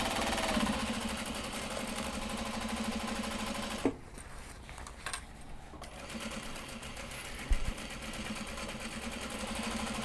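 A sewing machine bastes and stitches a welt pocket on a mini traveller, running in steady bursts with a brief pause partway through, close and fairly loud with no talking.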